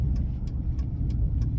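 A 2004 Dodge Ram 2500 with a 5.7 Hemi, muffler deleted and dual exhaust, heard from inside the cab as a steady, loud low droning rumble with faint regular ticking over it.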